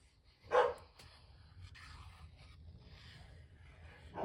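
A dog barks once from downstairs, a single muffled bark carrying up from a lower floor, followed by faint room rustling and quiet.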